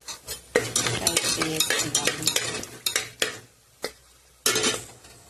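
Whole biryani spices, biryani masala and bay leaf being stirred and fried in a pressure cooker for vegetable biryani: a close, continuous sizzle with scraping spoon strokes and metallic clinks against the pot, with no talking.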